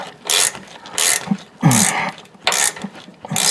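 A ratchet cranks down a bolt on a Chevrolet Suburban's rear suspension beneath the truck, making close, loud bursts of rapid clicking, about five strokes separated by short pauses, with no talking.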